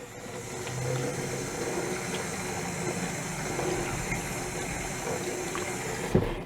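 Tap water runs steadily into a kitchen sink, a continuous hiss and splash from start to finish with a brief clunk at the very end, no talking.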